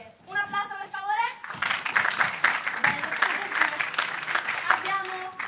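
An audience breaks into lively applause at a show, a dense burst of clapping that swells after a voice and fades as speech returns.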